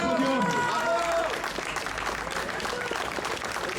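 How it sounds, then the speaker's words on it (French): A crowd applauds outdoors at a cycling race podium beside a school and town hall, with moderate, scattered clapping under the ongoing voice of an announcer. "Et voilà vos applaudissements"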